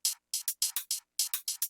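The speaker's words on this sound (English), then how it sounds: "A lot of open hi-hat, a little bit of shuffle going on all together." Electronic drum loop with open hi-hats and a shuffle groove, auto-panned and low-cut: crisp, bright hi-hat hits in a swung rhythm with light kicks underneath, close and clear, no voices.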